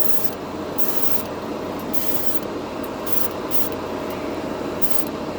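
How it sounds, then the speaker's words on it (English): Harbor Freight airbrush spraying paint while its compressor runs: a continuous close hiss of air with a steady motor hum underneath, broken by short rhythmic pulses. "the thing is on constantly, but it's not obnoxious. The compressor is not obnoxious. It paints really, well."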